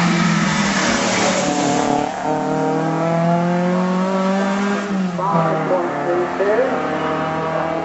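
A pre-1975 classic saloon or sports car races up the Shelsley Walsh hill climb, its engine revving hard and climbing through the gears with loud, close rising pitch sweeps, under continuous commentary.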